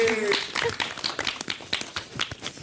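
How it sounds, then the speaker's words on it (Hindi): Audience clapping for Shifali Bagga at an awards show, a dense wash of claps at moderate distance mixed with brief crowd voices and some talk. "ओके तो जोरदार तालियां शिफाली बग्गा की।"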